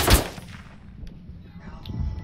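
Artillery and gunfire sound in a war video game: a single loud, close blast opens, followed by a low, rumbling tail and faint distant crackle.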